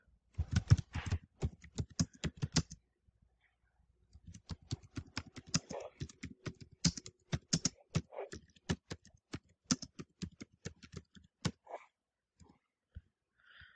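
Typing on a computer keyboard, with quick clusters of crisp close keystrokes in bursts separated by short pauses and a longer gap near the start, no voices.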